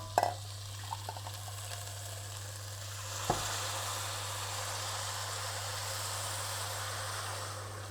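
Boiling water poured into a pot of sizzling pulao seasoned with salt, chili and garam masala, a faint steady hiss and bubbling sizzle with a few soft clinks near the start and one sharper knock midway.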